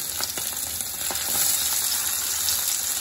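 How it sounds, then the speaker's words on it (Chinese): Yellow croaker fish pan-frying in a pan after being flipped, giving a steady, close hiss of sizzling oil that swells slightly midway and continues unbroken with no voices. "我们把鱼身反过来煎至啊"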